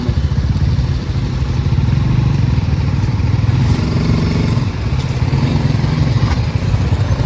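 Motorcycle riding slowly in first gear on a hilly road, a loud, close, steady engine chug with rattling clatter, running continuously without a break.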